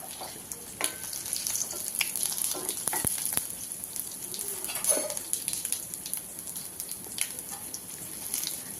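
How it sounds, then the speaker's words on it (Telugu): Tempering spices frying in about five spoons of oil in a pan on the stove, a soft continuous sizzle with scattered crackles and pops, fairly quiet, with no talking. "పాన్ పెట్టి ఐదు చెంచాల వరకు ఆయిల్ వేసి పోపు దినుసులు వేసి దోరగా వేయించుకోవాలి"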